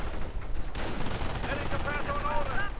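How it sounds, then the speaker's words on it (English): Artillery barrage in a real-time strategy match, a dense run of booming shots and crackling gunfire over a steady low rumble, with fainter warbling tones emerging toward the end. "And the artillery is almost done,"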